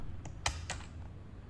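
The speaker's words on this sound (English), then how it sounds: "Let's open the keyboard with the provided keycap puller." A few sharp plastic clicks and taps, like keycaps being pried off an Epomaker HE 65 mechanical keyboard with a keycap puller, close by and fairly quiet, with two main snaps and a faint trailing tap.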